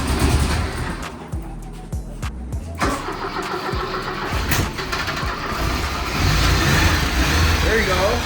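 An abandoned, vandalized Porsche 924 being cranked, the starter churning loud and close with engine rumble and mechanical clatter throughout, voices talking over it.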